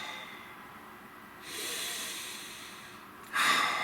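A person takes a deep breath: a slow inhale followed by a longer airy exhale, then a sharper breathy puff at the end, close and fairly soft with no speech.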